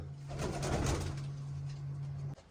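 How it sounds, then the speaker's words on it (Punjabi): Pigeons coo steadily with a low, sustained murmur close by, several birds overlapping, ending abruptly. "ਕਬੂਤਰ ਆ ਗਏ ਸਾਰੇ ਇਧਰ ਨੇ"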